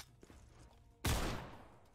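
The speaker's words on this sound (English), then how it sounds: "Shot him right through the wall" A single sharp gunshot fired through a wall in a Counter-Strike match bursts out loudly after a second of quiet game ambience, then rings off in a brief fading tail.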